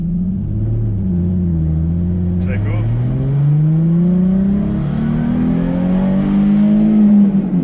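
Car pulling away in first gear at a drift-school lesson, engine revving and rising steadily in pitch over several seconds, close and loud, with someone talking over it.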